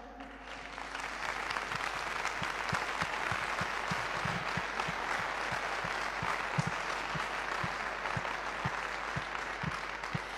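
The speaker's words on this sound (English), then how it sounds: "So another round of applause, please, for her." An audience at an award ceremony applauds steadily for about ten seconds, a dense, even wash of clapping from a crowd heard alone.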